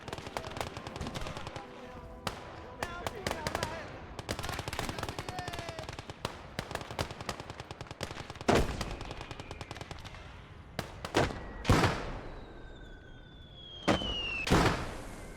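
Sustained gunfire and explosions from a war video game: rapid machine-gun bursts, scattered single shots and several sharp heavy blasts, dense and loud throughout with some whistling projectiles.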